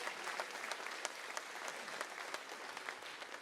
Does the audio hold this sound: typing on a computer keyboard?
no